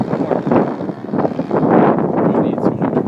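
Wind gusts across an outdoor flying field on a windy day, a steady broadband rush that swells and eases over a few seconds, close to the microphone, with no talk.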